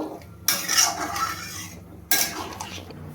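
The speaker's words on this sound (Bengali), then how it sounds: "গরম মশলা গুঁড়োটা দেওয়ার পর আমি একটু নাড়িয়ে নেব" A spoon stirs jackfruit and potato curry in a pot after garam masala powder goes in, two bursts of scraping, clinking movement separated by a brief quiet gap, close and without speech.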